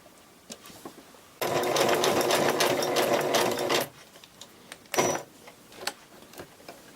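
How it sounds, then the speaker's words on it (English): Sewing machine running a zigzag stitch through fabric scraps for a lollipop Christmas tree ornament: one steady, loud burst of about two and a half seconds, then a short later whir among quiet handling noises. "You'll want to set your zigzag stitch so it catches part of each piece"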